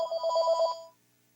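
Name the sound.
phone ringing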